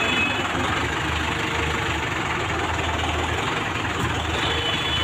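A Mahindra 585 tractor engine idles steadily, a constant low rumbling drone with a slight knocking vibration, close and unbroken throughout with no talk.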